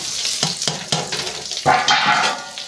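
Chopped onion, together with peas, drops into hot oil in a village kitchen pan and breaks into a loud, bright sizzle, preceded by a few scraping stirs of a spoon against the pan.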